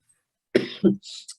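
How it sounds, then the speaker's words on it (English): A couple of sharp, close coughs in quick succession, followed by a breathy throat-clearing sound. "I'm going to start coughing, excuse me"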